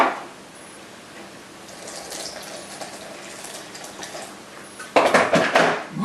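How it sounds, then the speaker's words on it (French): Water is poured into a thick raw blended soup in a kitchen, a quiet clatter of dishes giving way to a louder splashing pour near the end. "je vais rajouter un peu d'eau"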